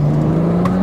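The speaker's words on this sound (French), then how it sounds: "Vas-y, accélère en deuxième là." A tuned BMW 330d accelerates hard in second gear, producing a loud, steady engine drone with a rising pitch, close by, in a short burst with no talking.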